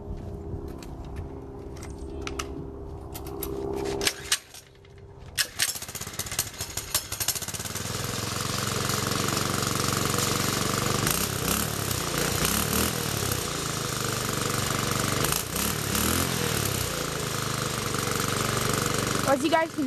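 A Baja mini bike fitted with a custom muffler pipe is cold-started after a few quiet seconds, then runs on as a steady, buzzing small engine with rattly exhaust pulses, close and fairly loud, while someone talks early on.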